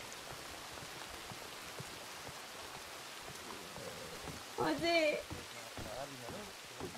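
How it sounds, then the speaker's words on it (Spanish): Steady rain falls in the Western role-play game RedM, a dense, even hiss that continues for the whole stretch while people talk over it. "Hostia, que llueve."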